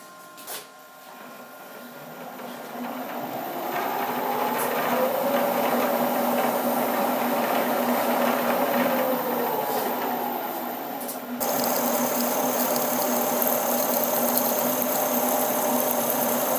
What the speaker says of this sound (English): We'll go with a spot drill.